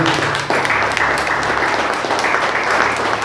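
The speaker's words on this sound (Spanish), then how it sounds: "¿Cuánto le dan un aplauso al Señor?" A church congregation applauds continuously, a dense wash of many hands clapping throughout.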